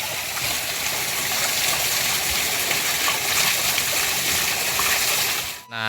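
Water rushes and splashes steadily at a village bathing spot as someone washes their feet after a rice harvest. The sound is a loud, continuous wash close by that ends abruptly.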